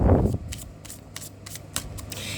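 Tarot cards being shuffled by hand, a soft close riffling with a series of quick papery flicks in steady rhythm after a brief louder rustle at the start.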